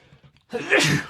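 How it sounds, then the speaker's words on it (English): A single loud sneeze bursts out after a couple of quick sharp breaths, close and abrupt. "I'm going to sneeze"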